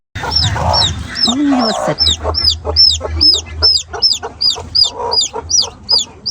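Chickens in a basket cluck loudly and close by, a rapid series of repeated sharp calls that continues without pause.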